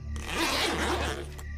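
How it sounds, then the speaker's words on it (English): A tent zipper is pulled down in one smooth, continuous run lasting over a second, close and clear against a quiet background, with a small snag near the end. "I heard the sound of the zipper to the tent zipping down"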